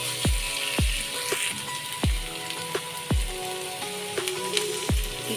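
Onions fry in a pan with salt for a dhaba-style whole masoor curry, producing a steady crackling sizzle under background music with repeated deep thudding beats.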